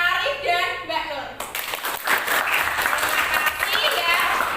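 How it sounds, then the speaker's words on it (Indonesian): A classroom of students claps together, a burst of many hands that begins partway through and continues steadily after a short stretch of a voice speaking over a quieter room. "tepuk tangan untuk Mas Arif dan Mbak Nur"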